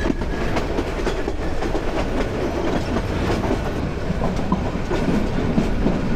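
A moving passenger train clatters steadily on the rails as it nears Chattogram railway station, joining the Dhaka line on a journey from Cox's Bazar. The wheel noise is continuous, loud and close, with no voices.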